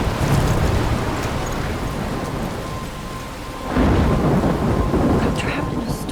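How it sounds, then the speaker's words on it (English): A thunderstorm in Life is Strange rolls on with heavy rain and deep thunder rumbling throughout, swelling into a louder crash midway, all steady and enveloping with no voices. "I'm trapped in a storm?"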